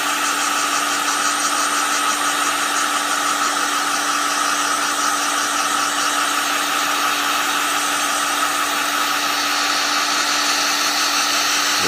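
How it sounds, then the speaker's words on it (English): A heat gun blows steadily to shrink heat-shrink tubing over a wire near a fuse holder. It gives a loud, constant whirring hiss with a faint steady hum under it, unbroken for the whole stretch. "heat gun along so we don't overheat the heat shrink"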